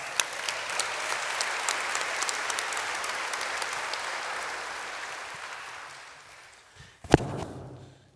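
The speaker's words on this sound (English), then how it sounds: "big round of applause" A church congregation applauds as three people are invited onto the stage at a celebration, a dense round of clapping that builds and then tapers off, followed by a few sharp thumps and knocks near the end.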